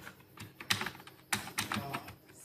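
Keystrokes on a computer keyboard while lettering a logo in Illustrator, irregular clusters of crisp close taps with a few louder key strikes, in a quiet room.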